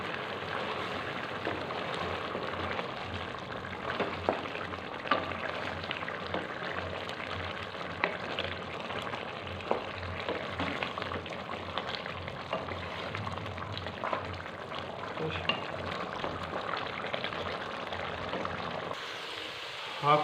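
Ghee sizzles and crackles in a pan for a desi beef karahi, a steady, fairly quiet frying hiss that runs throughout before cutting off at the end.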